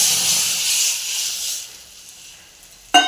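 Lentils poured into a hot tempering of mustard seeds, dried chilli and tomato give a loud, steady hiss and sizzle that slowly fades, ending with a sharp clatter.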